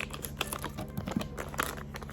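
Scissors snipping the top off plastic water filter packaging, with a few quick crinkly cuts and rustles of the wrapper, close and fairly quiet.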